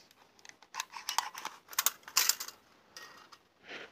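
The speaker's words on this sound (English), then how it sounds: "We can get a tape measure and measure it" A steel tape measure is pulled out, giving a quick run of dry ratcheting clicks and rattles, close and fairly faint, in bursts over a few seconds with no talking.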